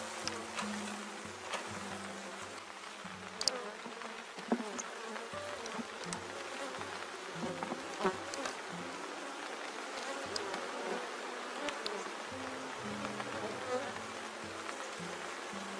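A swarm of honeybees buzzes inside a hive on a cool day, a continuous faint drone with individual bees flying past nearby and occasional soft handling knocks.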